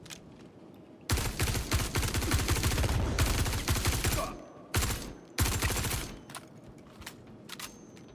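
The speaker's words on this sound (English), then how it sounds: "Laying down covering fire." Automatic gunfire in the video game Star Citizen: a long, loud sustained burst of about three seconds, then two shorter bursts, with quieter lulls between them.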